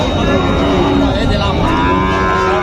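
A Sahiwal bull lows loudly and steadily at a cattle market, its deep drawn-out call filling the clip against crowd murmur.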